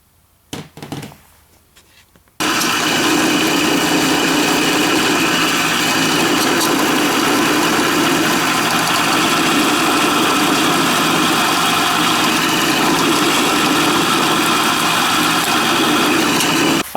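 After a couple of quiet seconds, a power saw starts up with a loud, steady whirring roar as it rough cuts small wooden pieces, and it runs unbroken to the end.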